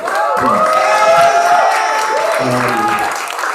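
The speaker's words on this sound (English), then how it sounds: "round of applause for Lizzie." Audience applause at a hybrid poetry open mic, with cheering voices and chatter carried over steady clapping for the full few seconds.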